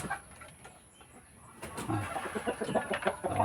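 Backyard hens in a rural Philippine coop cluck and fuss over feed of chopped banana trunks, a quiet start giving way to a busy, close chorus of overlapping clucks and soft calls.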